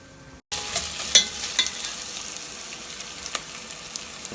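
Sliced onions fry in a pan for a Sri Lankan maasi karuvadu katta sambol: after a brief silence, a steady close sizzle begins, punctuated by a few sharp clicks and scrapes from stirring.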